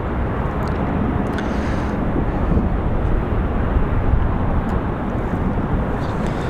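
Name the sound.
Delta airliner arriving at Raleigh-Durham airport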